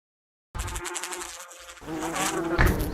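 Bees buzzing outdoors after a short silence, a close, continuous droning hum that rises louder toward the end.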